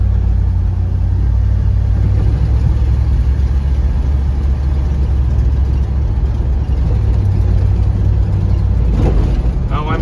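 A car with a Ford C6 automatic transmission drives along, its engine droning low and steady throughout, loud and close from inside the vehicle.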